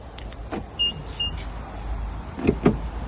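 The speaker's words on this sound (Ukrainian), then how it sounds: "Зараз закрилась машина." A car locking itself, a 2018 Peugeot, with short electric motor whirs and clicks from the locking and mirror mechanisms, two quick clunks near the end, close by outdoors.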